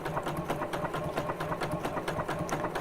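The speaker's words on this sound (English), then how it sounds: "that'll help you to see where you're feeding the fabric underneath the needle" A sewing machine stitches fabric into a gift bag, running slowly with a steady rapid mechanical chatter of the needle at close range and no talking.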